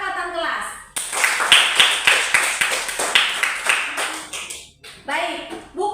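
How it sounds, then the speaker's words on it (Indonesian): A class of third-grade children claps hands in a school classroom: a burst of quick, fairly even claps runs for a few seconds, with children's and adult voices just before and after. "tepuk tangan untuk anak kelas 3 yang masih ingat tentang kesepakatan kelas"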